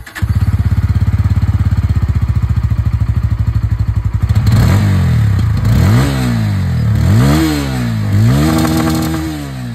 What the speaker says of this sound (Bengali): চলুন তবে এর যে এক্সস্ট সাউন্ড সেটাও আমি আপনাদেরকে এখানে একবার শুনিয়ে দিই